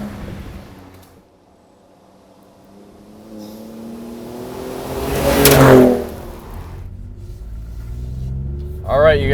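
A 2017 Ford Raptor F-150 with an EcoBoost engine revs close by, the engine note climbing to a loud peak midway and then settling into a steady rumble, with a voice speaking at times.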